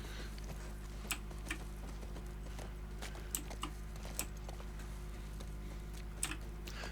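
Soft, irregular clops of a horse's hooves walking in The Last of Us video game, sparse light taps spaced a second or so apart under a low steady hum.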